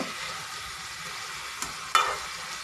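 Chojina flower bhaji frying in a pan, a soft continuous sizzle with a couple of brief scraping stirs of the spatula near the end, no voices.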